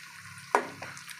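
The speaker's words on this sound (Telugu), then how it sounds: "రెండు కలిపి బాగా ఎర్రగా వేగేంత వరకు ఫ్రై చేసుకోవాలి" Bitter gourd pieces and their seeds fry in hot oil for kakarakaya ullikaram, a steady low sizzle with a sharp hiss and stir as more seeds drop in, then quieter crackling.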